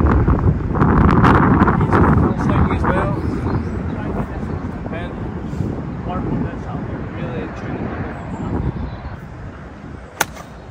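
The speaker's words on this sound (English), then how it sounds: "Wind is very strong" Strong wind gusting across a golf course, loud steady buffeting and rumbling against the microphone throughout, easing slightly toward the end, with a sharp click near the close.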